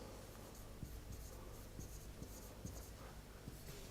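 Marker or chalk writing on a board during a lecture makes faint, scattered taps and scratches over a quiet, low room hum, with no talk.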